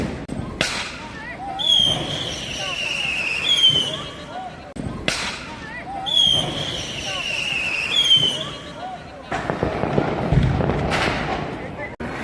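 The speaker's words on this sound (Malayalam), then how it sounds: "എല്ലാവരും താഴോട്ട് വന്നിട്ടാണ് ഇതുപോലെ പടക്കങ്ങളൊക്കെ പൊട്ടിക്കുന്നത്" At a CRPF camp during Diwali, firecrackers go off outdoors: sharp bangs, twice followed by rising whistles, then a heavier burst of crackling near the end, with background voices underneath.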